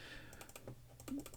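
Rapid mouse or keyboard clicking during idle-game play of Adventure Capitalist, a run of light, close taps at an uneven rhythm with no talking.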